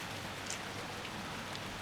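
Rain falls steadily in a soft, even hiss with scattered drops, a short continuous wash with no voices.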